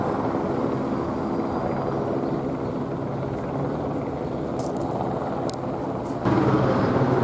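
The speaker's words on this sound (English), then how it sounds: "Got this helicopter continuously hovering in this area." Steady low rotor drone of a helicopter hovering nearby, continuous throughout with faint clicks and a slight rise in loudness near the end.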